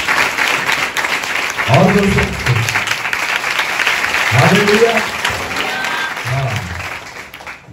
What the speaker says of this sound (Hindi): पहले तो इस चर्च के लिए प्रभु को ताली बजाकर धन्यवाद देना।